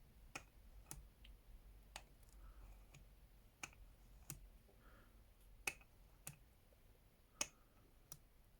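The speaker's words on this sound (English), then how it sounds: "Nice click sound you can hear even in the dark." A SVBONY SV215 1.25-inch 3-8mm planetary zoom eyepiece turned through its click stops, giving about a dozen crisp, quiet clicks at irregular intervals, close up, with no talking.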